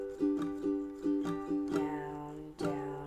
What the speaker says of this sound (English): the strum I use is down, down, up, up, down, up, up, down, up